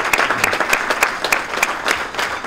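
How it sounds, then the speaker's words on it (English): Audience at a chamber of commerce legislative luncheon applauding the Mayor of Brockton, loud, close, crisp clapping with distinct individual claps in a quick, uneven rhythm throughout. "A round of applause for Mayor."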